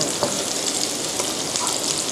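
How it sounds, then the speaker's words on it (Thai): Sliced onions stir-fry in a hot pan for a stuffed beef and noodle dish wrapped in batter, giving a steady, close hiss and crackle with faint scraping of the spatula and no talking. "เอาหอมเนี่ยใส่ลงไปผัดนะคะ ก็จะผัดจนกว่าหอมมันจะสลดตัวลงนิดนึงนะคะ"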